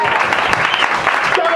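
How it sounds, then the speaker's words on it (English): An audience at a stand-up comedy show applauds, a brief burst of close, loud clapping with a voice talking over it. "Keep applauding"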